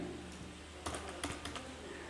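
Fingers type on a computer keyboard, a few quick, close key clicks arriving in short bursts over low background hiss, with no voices.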